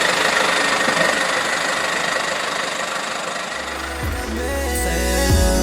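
A motorcycle engine runs with a steady knocking throb, heard close and loud. Around the midpoint a deeper idle rumble comes in and then swells, with no voices.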